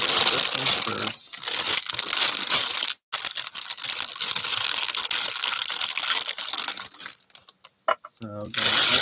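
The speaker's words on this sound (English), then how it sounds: "sorry for the crinkling." Plastic packaging crinkles loudly and close in long, rustling stretches broken by brief pauses, ending in a final burst of crackling.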